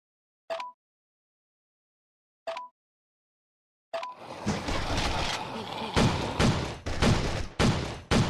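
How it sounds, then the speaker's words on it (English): In a mobile video game, two isolated gunshots ring out with pauses between them, then a burst of rapid, heavy gunfire with thuds and blasts continues loudly. "Gunfire's too loud."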